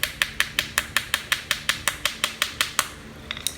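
A screwdriver handle taps a stuck carburetor bowl on a Craftsman small engine, about fifteen sharp, evenly spaced metallic knocks close up, ending in a few lighter clinks.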